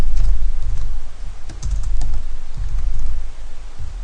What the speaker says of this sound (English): So I can type things